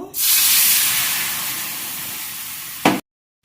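Milk poured into a hot pan of flour fried in rapeseed oil hisses loudly at once, a steady bright sizzle that fades gradually, then a short sharp burst before sudden silence.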